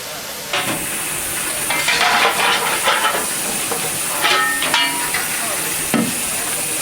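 Steam locomotive Sir Keith Park stands at a Severn Valley Railway station filling its water tank, giving a continuous loud hiss with stronger surges and brief bursts throughout.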